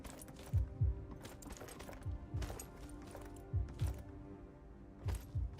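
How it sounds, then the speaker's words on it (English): Skyrim heartbeat effect from the LoreRim setup: paired low, soft thumps repeating about every one and a half seconds, a steady lub-dub rhythm under faint background ambience. "What's that heartbeat?"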